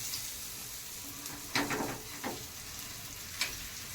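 Gram flour vadas frying in hot oil on a fast gas flame, giving a steady close sizzle with a few brief louder crackling bursts, and no talk.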